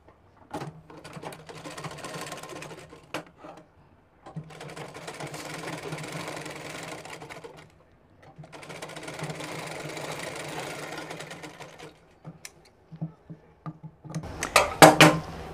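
Sewing machine stitching the crotch seam of palazzo pants, three steady bursts of close, even whirring separated by brief pauses, followed by a few short clicks and handling knocks.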